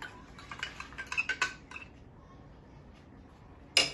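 A spoon stirring a salt-water mixture in a container at home, a quick run of light clinks and taps followed by a pause and one louder clack.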